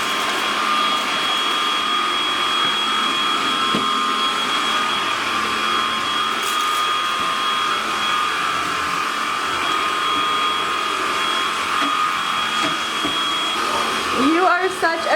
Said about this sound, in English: He loves to help his mommy vacuum, huh?